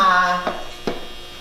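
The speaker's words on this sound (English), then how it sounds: "that's our dryer." A household clothes dryer running in a house, a steady tonal hum with layered harmonics that fades slightly, broken by two short knocks.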